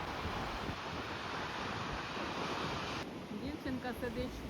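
Giant Atlantic Ocean waves at Cabo da Roca near Lisbon roar steadily with heavy wind buffeting the microphone, a loud continuous wash with a voice faintly audible near the end.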